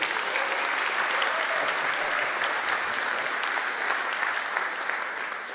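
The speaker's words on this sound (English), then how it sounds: "rockstar applause for the RMB trio" A DevOps Day conference audience applauds the RMB trio with dense, sustained clapping that holds steady throughout and fades a little toward the close.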